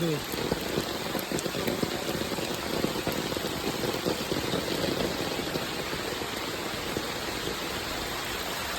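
A torrential Konkan monsoon rain pours down in a constant, loud wash of drops striking nearby surfaces, with a faint low rumble beneath and no clear speech.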